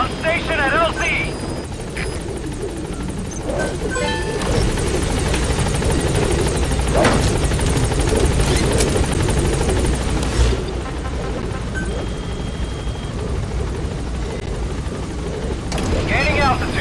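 Pequot helicopter from Metal Gear Solid V arriving at a landing zone: a steady rotor and engine drone holds throughout, with game effects and radio voices talking over it.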